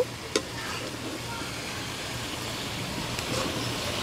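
Chicken pieces for a chicken curry fry in a pan with a soft, steady sizzle close by, a couple of brief clinks of stirring near the start, no talking.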